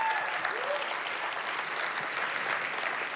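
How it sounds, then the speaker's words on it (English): A festival audience applauds a sportscaster coming onstage, giving steady, even clapping that fills the hall from start to finish at moderate volume. "let's get an applause for Lindsay."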